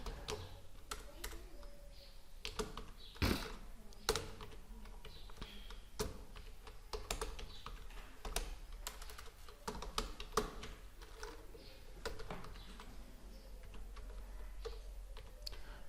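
Scattered keystrokes on a computer keyboard, including repeated presses of the Tab key, sharp isolated clicks spaced irregularly over a quiet room background.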